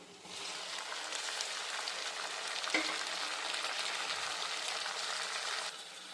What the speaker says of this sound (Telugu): ఇప్పుడు ఆనియన్స్ కొంచెం మగ్గిపోయినాక మనం కట్ చేసి పెట్టుకున్న టమాటోస్ చిల్లీస్ వేసుకుందాం